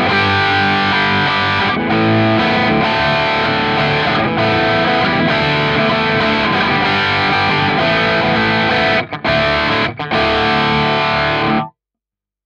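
A distorted electric guitar plays through a Fractal Axe FX amp modeler, loud and continuous with brief gaps near the end before it stops, playing alone with no talking.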